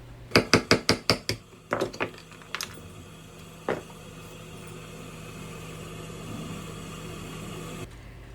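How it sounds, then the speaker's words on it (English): Several sharp hammer taps on black walnut and epoxy coasters come in a quick run, followed by a few scattered knocks, then a low engine-like hum continues with no further strikes. "gave a few taps with a hammer, and it should pop right off"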